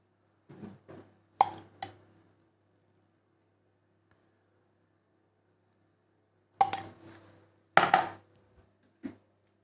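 A utensil clinks and scrapes against a bowl while food is stirred together with grainy mustard, in short bursts of clatter with quiet pauses between.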